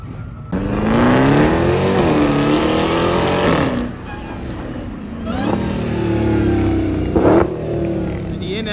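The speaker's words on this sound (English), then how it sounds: "That be downshifting." A car revs hard and downshifts at a Houston slab-scene Labor Day block party, loud engine roar rising and falling across several gear changes close by, with people talking over it.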